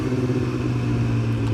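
A Harley-Davidson motorcycle engine runs steadily nearby with a low, throbbing rumble, no talk over it.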